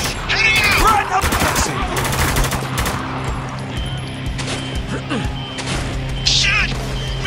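Gunfire and combat in the video game Spec Ops: The Line, dense overlapping shots and impacts with loud bursts throughout, mixed with shouted voices over the battle.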